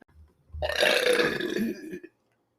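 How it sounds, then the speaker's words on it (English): A person lets out one long, loud belch lasting over a second, close to the listener, with a brief low grunt just before it. "my disgusting belches"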